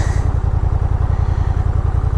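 A 2021 Honda Rebel 1100 DCT motorcycle idles close by with a steady, deep, throaty low-end pulse that throbs in an even rhythm throughout, without any speech over it.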